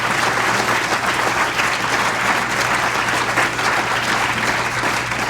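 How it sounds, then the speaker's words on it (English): Sustained audience applause for Senator Tammy Duckworth in a hall, dense even clapping from a large crowd over a low steady hum, loud and unbroken throughout. "Give her a big round of applause"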